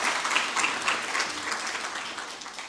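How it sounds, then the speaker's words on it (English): A conference audience gives a round of applause after a presentation, steady mid-level clapping that fades slightly toward the end. "Can we give him another round of applause"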